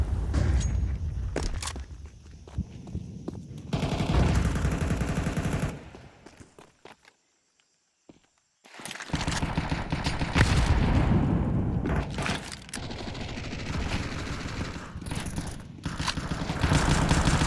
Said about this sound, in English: it's bullets going down through the smoke at B lane here